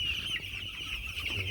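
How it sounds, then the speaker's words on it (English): Two-week-old chicks on a village poultry farm: a continuous chorus of high, shrill peeping from many birds close by, steady and dense throughout. "So you can see guys how our chicks are."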